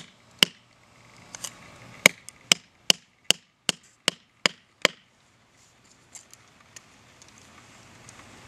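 An Ontario RAT1 folding knife chops into wood in a woodcraft test, landing about ten crisp, evenly spaced strikes in a steady rhythm, followed by a few softer, scattered taps.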